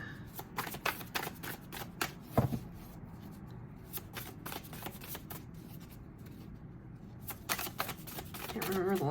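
Tarot cards are shuffled close up in quick, crisp riffling bursts that pause and resume, soft and near, with a person speaking quietly over them.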